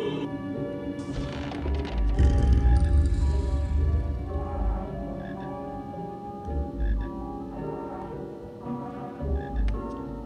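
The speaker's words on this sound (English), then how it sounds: "Let the sound of frogs be your guide." Frogs croak in a steady low chorus in the PC game Harry Potter and the Sorcerer's Stone, repeated throaty croaks layered over ambient game music, continuous and fairly loud with no talking.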